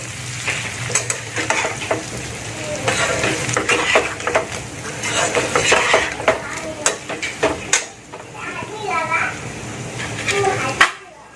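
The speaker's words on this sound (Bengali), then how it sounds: "আমি এখানে এই আলুগুলো দিয়ে দেবো এর সাথে আলুগুলোকে কষে নেব মশলার মধ্যে" Potatoes being sautéed in frying masala in a pan, a steady close sizzle under repeated stirring and scraping strokes, with voices talking in the background.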